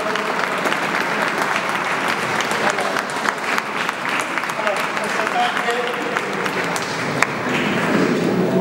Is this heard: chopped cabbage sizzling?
no